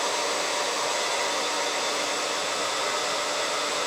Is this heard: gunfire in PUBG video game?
no